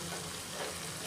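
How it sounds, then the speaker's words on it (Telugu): Grated carrot frying in a pan with curry leaves for curd carrot rice: a steady, dense sizzle, close and continuous with no speech. "క్యారెట్ ఫ్రై అయిపోయిందండి"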